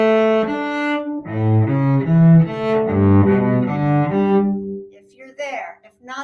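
Bowed cello playing the opening two bars of a theory exercise, a short run of sustained low notes moving stepwise, played alone and fairly close, ending in a brief noisy scrape.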